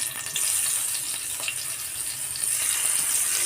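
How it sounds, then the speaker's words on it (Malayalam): A steady, bright sizzle of eggplant frying in hot coconut oil hisses on without pause, close up and fairly even throughout. "വെളിച്ചെണ്ണ ചൂടായിട്ടുണ്ട്. ഇനി വഴുതനങ്ങ ഇട്ട് കൊടുക്കാം."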